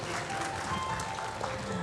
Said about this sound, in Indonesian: Tepuk tangan untuk Mas Budi Sadikin.